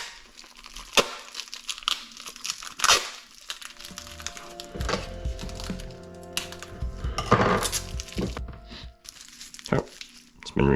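A vanilla bean package is pressed and sealed airtight, with crinkling and crumpling plastic, scattered sharp clicks and small rustles over several seconds, close by, with a faint voice at times.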